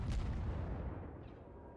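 Naval artillery booms in World of Warships, a single deep heavy blast that rumbles and fades over a couple of seconds, moderately loud with no speech.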